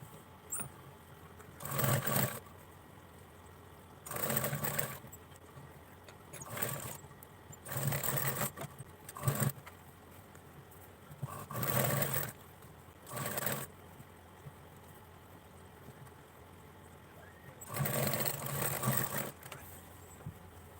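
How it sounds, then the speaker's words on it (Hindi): A sewing machine stitches the side seam of a blouse in short bursts of whirring, with quiet pauses between runs. It sounds close and moderately loud, and no one speaks. "अब इस पर हम सिलाई लगाएंगे।"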